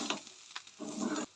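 Masala for a Goan colocasia leaf curry is stirred and sautéed in a pan, producing a few short, soft bursts of sizzling and scraping over about a second and a half, fairly faint.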